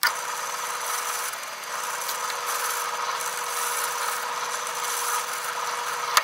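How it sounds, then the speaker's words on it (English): A drill press bores holes in a wood strip, giving one steady, close, loud whir with a grinding bite that runs without a break through the whole stretch. "I have my fence set up to drill right on center, and then I will just move this along to each of the marks to make my drill"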